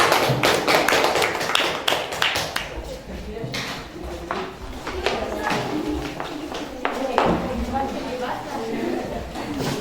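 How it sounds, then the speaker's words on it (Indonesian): Scattered claps and sharp taps for a group presentation in a classroom, mixed with room chatter and voices, a steady patter of hands rather than a full burst of applause. "tepuk tangan untuk kelompok 1 ya"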